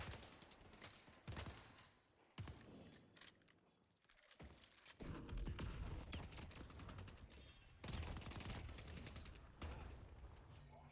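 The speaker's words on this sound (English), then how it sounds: "We're shooting tower here." Repeated gunfire against a tower in the hero shooter Deadlock, with bursts of rapid shots, clattering mechanical impacts and brief pauses, loud and close throughout.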